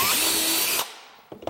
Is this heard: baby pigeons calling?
no